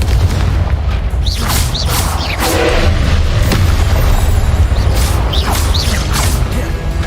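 Confringo explosive spell blasts in the Hogwarts Legacy video game, heavy booming crashes layered over a constant loud roar of game effects, with bursts repeating through the clip.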